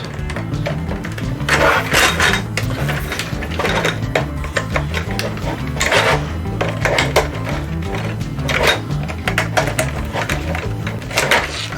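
Screws are tightened on a 1/4 scale Ford Mustang V8 engine model, with repeated small metallic clicks and scraping bursts recurring every second or so over a low steady background hum.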